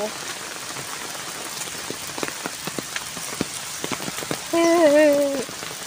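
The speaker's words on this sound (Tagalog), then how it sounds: "Hirap naman umuwi guys nang umuulan" Steady rain patters and hisses on a surface with scattered drips, while a brief voice-like tone rises near the end.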